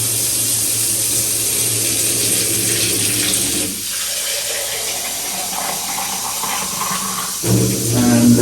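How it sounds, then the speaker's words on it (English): Extremely hot tap water running into a glass beaker to preheat it, a loud close hissing gush with a brief dip midway before the flow surges back at the end. "Extremely hot tap water."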